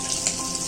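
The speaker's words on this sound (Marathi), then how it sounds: "आता हे एक एक आपण आता हे तेलामध्ये सोडणार आहोत." Masala-stuffed bitter gourd pieces sizzling in hot oil, a brief close, continuous crackling hiss with no voices.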